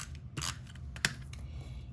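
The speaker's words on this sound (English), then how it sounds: "I took my scissors and I just cut it on an angle to make it look more finished" Paper-craft scissors snip through a length of ribbon at an angle, two quick, crisp cuts close to the microphone in an otherwise quiet room.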